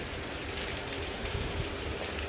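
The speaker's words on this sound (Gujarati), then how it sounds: "કાલનો વરસાદ ચાલુ જ છે" Heavy rain pours steadily outdoors in a broad, unbroken hiss with low rumbling underneath, constant and fairly close throughout, with no voices.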